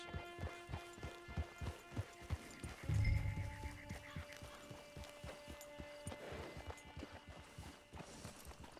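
Hooves clop in a steady, even rhythm as a horse moves along in Red Dead Redemption 2, with sustained musical tones underneath and a brief louder thump partway through.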